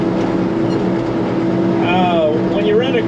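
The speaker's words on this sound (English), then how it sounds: "When you run a grader forever" A motor grader's diesel engine runs steadily at a loud, close, droning idle while someone talks over it.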